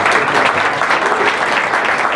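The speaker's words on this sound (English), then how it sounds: "Give John a round of applause." An audience at a 2013 SCDC gala gives a round of applause, a dense, loud, even burst of many hands clapping that carries on steadily from start to finish.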